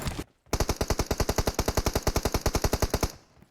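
Rapid automatic gunfire from PUBG Mobile: a steady burst of about twenty closely spaced shots, loud and close, lasting nearly three seconds before cutting off.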